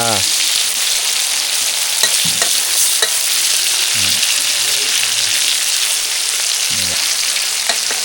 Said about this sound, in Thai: ทอดปลาพี่น้องทอดปลา